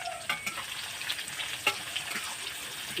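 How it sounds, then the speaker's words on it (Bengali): Chopped onion fries steadily in hot oil with seasoning, giving a constant sizzle with occasional clicks of stirring, close and moderately quiet. "দিয়ে আমি একটুখানি 2-3 মিনিট মতন এই পেঁয়াজটাকে একটু ভাজা ভাজা করবো"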